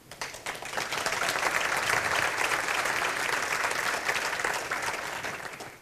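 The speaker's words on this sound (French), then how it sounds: "on va lui faire part de vos applaudissements" An audience at a Desjardins annual general meeting bursts into applause, rising quickly into a full, sustained wash of clapping that holds steady and tapers slightly at the close.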